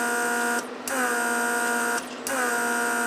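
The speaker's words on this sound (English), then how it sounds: "As you can see, it's pumping vacuum." A Mercedes 500SL central door-lock vacuum pump runs with a steady electric buzz close by, cutting out briefly twice before humming on again.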